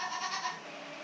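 A newborn baby goat on a farm gives a brief, faint, thin bleat, wavering slightly, heard alone for about a second.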